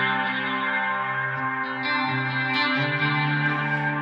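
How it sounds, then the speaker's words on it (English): Electric guitar played through a pedal's tape echo setting, sustained chords with soft, slightly warbling repeats trailing behind the notes, steady and fairly loud with no talking. "And then they've got a tape echo. So you hear it sounds more like a tape."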